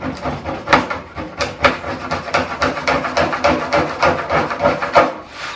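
Repeated rough scraping strokes of a scraper rasp against hard foam in a steady back-and-forth rhythm, loud and close, with no talking.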